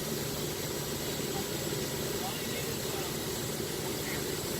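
Light aircraft engine droning steadily in flight near Salinas Municipal Airport, California, a constant loud cabin hum with propeller buzz filling the whole moment without letup.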